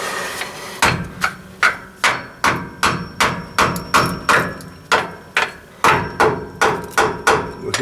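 A screwdriver pries at the rear differential cover of a 2008-2011 Ford, giving a run of sharp, evenly spaced metallic knocks and taps close up, with no talking.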